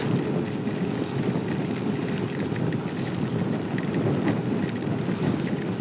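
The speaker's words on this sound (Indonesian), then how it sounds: "Kok hujannya tambah deres ini di sini." Heavy rain pouring steadily on the road to Bromo via Lumajang, a dense continuous hiss and patter heard up close throughout with no break.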